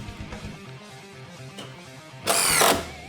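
DeWALT DCF888 impact driver sinking a 3-inch number 10 Spax wood-to-wood building screw, a quiet motor whir with light clicks and then a loud, short burst of rapid hammering impacts near the end, close and alone.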